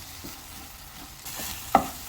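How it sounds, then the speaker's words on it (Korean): Eggs sizzle and get stirred in hot oil over high heat in a pan, a steady soft frying hiss with a sharper scrape of the utensil near the end, no voices. "기름이 어느 정도 달궈졌을 때 달걀을 볶기 시작합니다."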